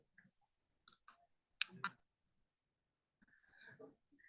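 A few soft, sharp clicks from advancing a presentation slide at a medical talk, isolated in near silence with a faint breath and brief murmur.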